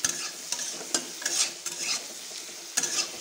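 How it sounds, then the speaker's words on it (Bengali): Boiled potatoes frying in a pan with salt and turmeric, stirred in quick repeated scrapes over a steady close sizzle, with no voices. "এখন আলুগুলা একটু ভালো করে ভাজা হবে।"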